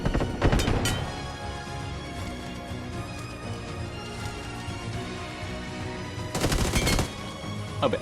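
Gunfire in a shooting video game: loud bursts of rapid shots at the start and again near the end, set over a dense, continuous game soundscape, with no talking.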